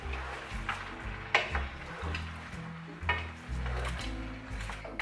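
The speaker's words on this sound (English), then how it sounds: "I'm going to stir the squash" Squash cooking in a pot being stirred, with a soft sizzle underneath and occasional scrapes and knocks of the utensil against the pot, close and fairly quiet with no talking.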